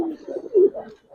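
A silver khaki Giribaz pigeon perched on a hand gives a loud, near, rolling coo that swells in the middle, with faint murmuring in the background.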